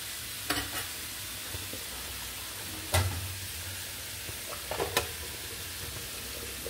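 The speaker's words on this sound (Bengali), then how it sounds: "এখন এটাকে একটু নেড়ে দিব।" Rohu fish curry with potatoes stirred in a pan, a quiet sizzle running under a few scraping spoon strokes and one sharper clatter near the middle.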